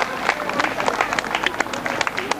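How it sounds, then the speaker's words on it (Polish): A crowd applauds the winner at the finish of a 1999 sobriety road race in Łowicz, Poland, with a short burst of scattered clapping under an announcer's voice. "Brawa dla zwycięzcy."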